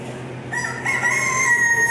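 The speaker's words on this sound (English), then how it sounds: "These are the award-winning roosters here." A rooster crows loudly nearby in a long drawn-out call at a state fair poultry show, with softer clucking and other fowl noises around it.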